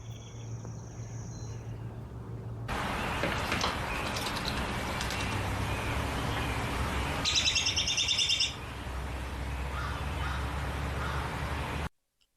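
A robin sings a string of bright chirping phrases outdoors, fairly close and clear over a steady background hiss, with one denser burst of song partway through.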